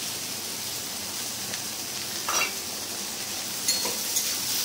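Soaked, drained soybean chunks crackle in hot oil, a steady even hiss with a couple of brief stirring clinks near the pan.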